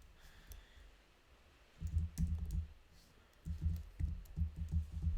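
Rapid clatter of typing on a computer keyboard, coming in two bursts of quick, close keystrokes separated by a short pause, with faint background hiss.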